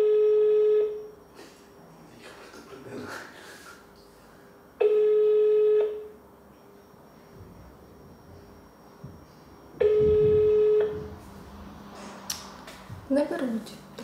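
Telephone ringing in a Ukrainian office call that goes unanswered: three long electronic ring bursts with pauses between them, clear and close, while a person talks quietly in the gaps.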